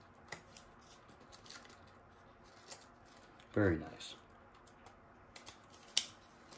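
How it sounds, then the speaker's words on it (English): A car key fob's button is pressed to release its spare key, a single short mechanical click-and-slide burst, close and fairly soft, amid light handling noises, with brief speech nearby. "Push this and you do get the spare key."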